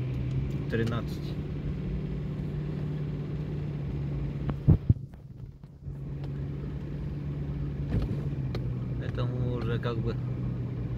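Car driving on a road out of Yakutsk toward Pokrovsk during a thaw, a steady low engine and road hum running throughout with a brief knock and dip midway, while someone talks over it.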